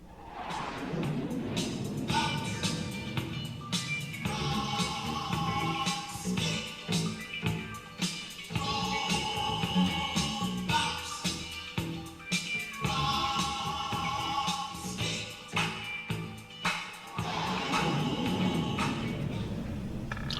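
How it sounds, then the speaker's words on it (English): A bass guitar plays a repeating bounce-rock riff through a wah, giving a filtered tone, looping steadily throughout with no voices. "The main bass riff sounds like this."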